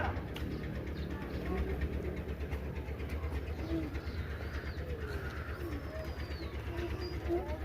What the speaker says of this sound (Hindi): ये देखें जी, कबूतर ही कबूतर है यहाँ पे।